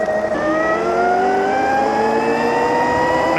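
A Cunfon M200 48V electric pit bike accelerates hard, its motor whine climbing steadily in pitch, loud and close, with no talking.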